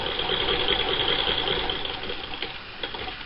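1934 Singer vintage long bobbin sewing machine stitching, a fast, even mechanical whirr and clatter, steady and close, with a few faint clicks.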